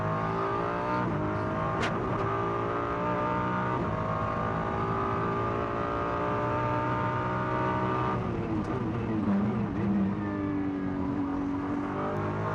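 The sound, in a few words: GT race car accelerating out of the Macau hairpin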